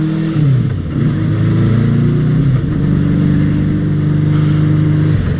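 A motorcycle engine heard from the rider's position while riding, loud and close, with a steady mid-pitched drone whose pitch rises and drops through gear changes.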